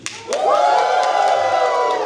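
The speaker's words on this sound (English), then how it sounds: "I want you all to cheer loudly." A crowd of audience members, with children among them, cheers and whoops loudly in one sustained burst that swells quickly and holds, with no clear speech.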